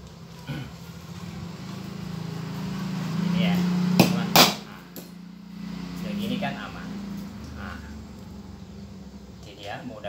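Hammer blows driving a concrete nail through a motorcycle chain link to cut it, a couple of sharp strikes near the middle, close and loud over steady background noise, with people talking throughout.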